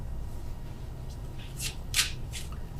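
A deck of tarot cards is shuffled during a reading, heard as a few quick, crisp riffling bursts over a quiet, low background hum.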